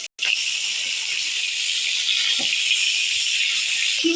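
Green beans sizzle steadily in hot oil in a frying pan, a loud continuous hiss that begins just after a brief silence and holds at the same level throughout.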